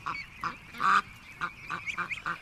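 Domestic geese honk in a string of loud, nasal calls, one strong drawn-out honk standing out midway among shorter ones, close by with no talking.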